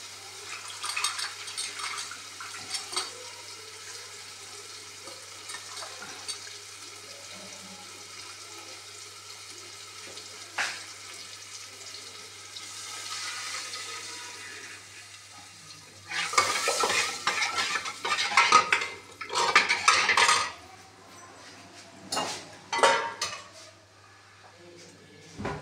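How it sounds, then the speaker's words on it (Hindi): Maggi noodles tempered in a pan as potatoes go in: quiet sizzling and frying early on, then louder bursts of stirring and clattering against the pan in the second half, with no speech. "फाइनली फ्रेंड, मैंने छमक दिया है मैगी को।"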